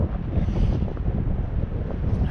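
Strong wind buffets the microphone on an open ocean beach at Fort Stevens State Park, a steady, loud rumbling roar with no other sounds.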